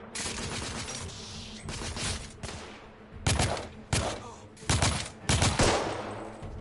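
Heavy gunfire in a video game pounds out in long, loud automatic bursts with short gaps, dense and close, filling the whole stretch with little else audible.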